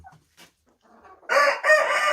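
A rooster crows loudly and close by at a Kazakh home chicken coop, a long sustained call following a few faint clucks and small sounds from the hens.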